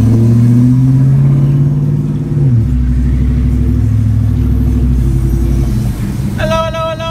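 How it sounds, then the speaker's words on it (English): Stock 5.3 V8 with a recent tune-up and a Magnaflow muffler revving hard with a loud, sustained roar, the pitch climbing and then dropping as the tires smoke, with voices heard over the engine. "This fool already smoking tire."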